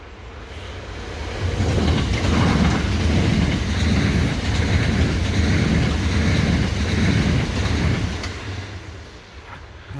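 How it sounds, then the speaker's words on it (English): A train rumbles past on the rails, growing loud and steady with rhythmic clatter, then fading away toward the end. "Here comes the train."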